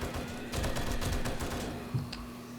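Rapid bursts of M60 machine gun fire from the 7 Days to Die video game ring out loud and dense across the clip, with a brief sharper shot near the end.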